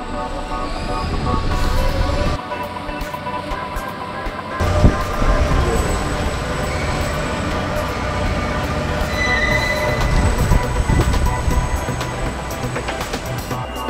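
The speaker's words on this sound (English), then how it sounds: "This monorail is also a flexible solution which ensures the right speed and flexibility for our" An automated monorail conveyor at a Coca-Cola bottling plant in Edelstal, Austria runs with a loud, continuous mechanical rumble and rolling wheel noise, high squeals and hum layered over dense factory din.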